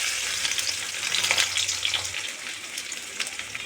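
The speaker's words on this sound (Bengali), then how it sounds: "তেল গরম হয়ে গেছে, এবার কুচানো পেঁয়াজ দিয়ে দেব।" Chopped onions hit hot oil in a wok and fry with a bright, loud, continuous sizzle that eases slightly toward the end, with no voices.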